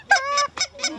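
A low flock of lesser geese honking during a morning goose hunt: four loud, clear honks in quick succession, close by and with no voices over them.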